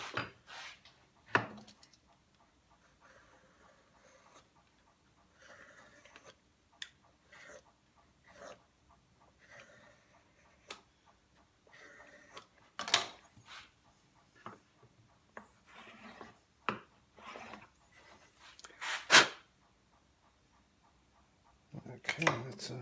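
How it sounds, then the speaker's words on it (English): A knife pares and scrapes wood to clean out a rebate on a pin board for an apothecary chest, giving faint, intermittent rubbing and scraping strokes with sharper ticks in between, close and quiet with long pauses. "Just use the knife to clean it out."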